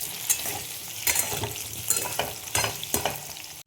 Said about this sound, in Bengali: আলুগুলো ভাজা হয়ে এসছে, আর একটু হবে।